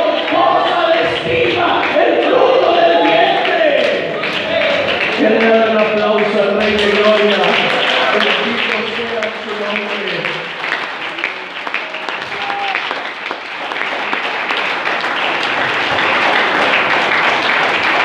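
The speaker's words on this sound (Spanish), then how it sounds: "Un aplauso." A church congregation applauds during a Spanish-language sermon, with steady, loud clapping mixed with cheering and raised voices that continue for the whole stretch.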